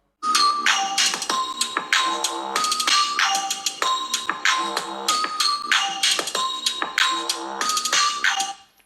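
A Samsung Galaxy Note 20 Ultra plays a loud, bright chiming ringtone-style melody through its stereo speakers, repeated rhythmic tones continuing for several seconds before cutting off, close and alone.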